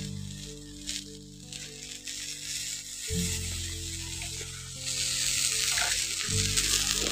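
Chitai pitha batter sizzles on an oiled tawa, a bright crackling fry that swells louder as the batter spreads, with a low steady hum and a few clinks underneath.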